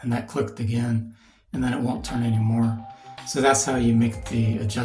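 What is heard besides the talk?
None of the usual background noises is heard.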